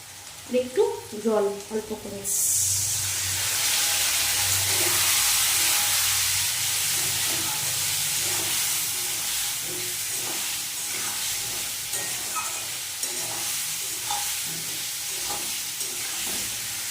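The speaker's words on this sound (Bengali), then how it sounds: "ভালো করে একটু ভেজে নেব এবার দিয়ে দেবো গুঁড়ো মশলাগুলো" A rohu fish head fries with ground spices, first with a few clattering knocks, then a loud, sustained sizzle and hiss with stirring scrapes throughout and a voice speaking over it.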